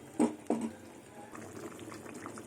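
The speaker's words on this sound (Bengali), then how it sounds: "এবার পরিমাণ মতন জল দিয়ে দেবো" Water tipped into a pan of pumpkin and potato curry with drumsticks and lentil dumplings: two quick splashy pours up close, followed by a soft, steady bubbling simmer.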